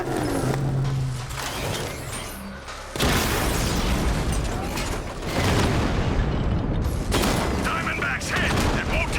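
A heavy explosion as the Diamondback tank is struck in Batman: Arkham Knight, loud booming blasts erupting in bursts amid roaring vehicle and combat noise, close and dense.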